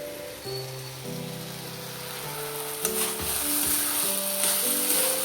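Milk for dudh puli heats on a stove, a soft, steady bubbling hiss under background music, with a few brief louder crackles.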